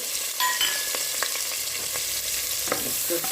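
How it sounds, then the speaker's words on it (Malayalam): Onions frying in ghee give a continuous close sizzle with scattered pops and a few stirring clinks. "ഇച്ചിരി നെയ്യും ലേശം നല്ല നെയ്യും ഇട്ടിട്ടുണ്ട്. അതിലേക്ക് ഉള്ളി ഇട്ടിട്ട്"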